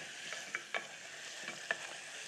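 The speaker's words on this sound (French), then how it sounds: "Je mélange. Donc là, je mets mon beurre." Butter going into hot caramel on the stove and being stirred, a soft steady sizzle with a few faint clicks and scrapes, quiet and close.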